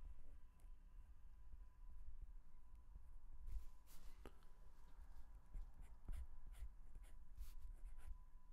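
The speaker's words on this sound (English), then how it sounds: "Right here, I'm just sketching in" Pencil sketching a human skull drawing, the graphite scratching steadily and quietly in a close, low room with soft intermittent strokes throughout.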